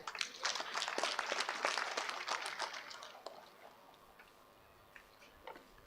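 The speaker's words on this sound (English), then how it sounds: "A big hand clap to our leadership." Audience at a university graduation ceremony claps briskly, sharp hand claps building thick for about three seconds and then thinning to a few scattered, fading claps.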